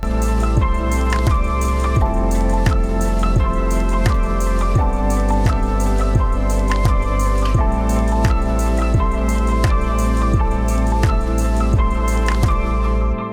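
Thick marinade is poured over BBQ ribs, producing a rapid, regular series of close wet drips and splats that continue steadily, with a faint background hum.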